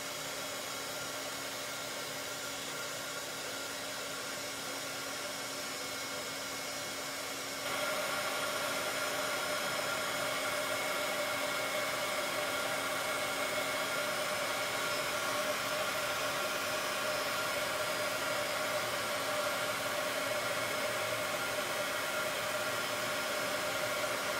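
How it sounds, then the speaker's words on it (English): A heat tool for crafting blows hot air in a continuous, close whooshing hum that steps up slightly in loudness partway through and then holds steady, with no voices. "take a tray, take your heat tool"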